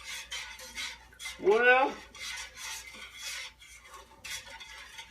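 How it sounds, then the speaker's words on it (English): A metal spoon stirs pomegranate juice grenadine syrup in a pot, making repeated scraping and clinking strokes at a steady pace. A short spoken word cuts in partway through. "I've almost got that completely stirred in."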